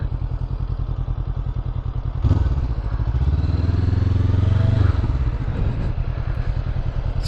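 A Honda CB 500 motorcycle rides through an S-turn, its engine rumbling close as it rises and holds a throttle pull, then eases back as the bike leans through the bends.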